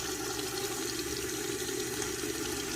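Hot water gushes steadily from a household tap, a constant close hiss and splash of running water that keeps an even level throughout, with no voices.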